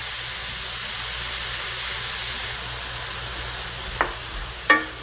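Butternut squash and collard greens sizzle softly and evenly in a pan, with two brief clatters near the end.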